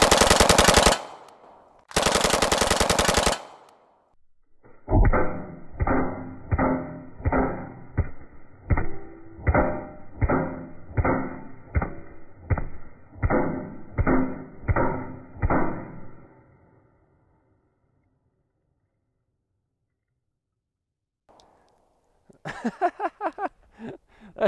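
Loud bursts of automatic gunfire, first two short blasts, then a long rapid string of evenly spaced shots, followed by silence and another brief burst.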